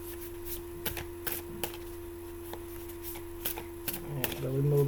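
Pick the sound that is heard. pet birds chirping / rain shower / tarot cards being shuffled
tarot cards being shuffled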